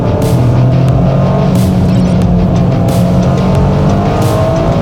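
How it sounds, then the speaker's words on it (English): A Toyota GR Corolla spinning its wheels under hard acceleration on a race track, with a loud continuous engine drone and tire noise heard from inside the car throughout. "bit of wheel spin there"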